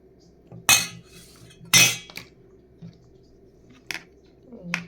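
A metal ladle knocks and scrapes against a tiffin box while chow mein is served, making a few sharp clinks spaced a second or so apart over a quiet kitchen background.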